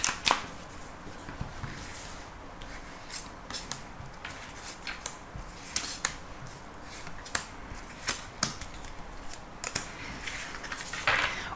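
Tarot cards shuffled by hand for a reading, a steady run of close, soft riffling flutters and crisp snaps repeating throughout with no talking.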